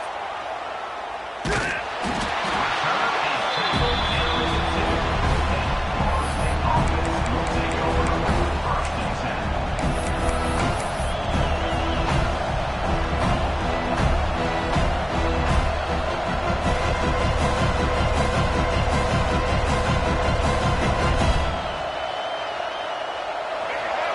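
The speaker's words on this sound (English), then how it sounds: "This crowd trying to make life miserable for this offense." Loud, continuous roar of a large stadium crowd at a football game, sustained and dense throughout, with a few sharp bangs near the start.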